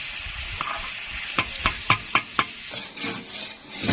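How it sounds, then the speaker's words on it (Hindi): Onion, ginger and garlic fry in a cooking pot with a steady sizzling hiss, while five sharp metallic clanks of a spoon stirring against the pot ring out in quick succession near the middle. No one speaks. "प्याज और अदरक लहसुन भून चुके हैं"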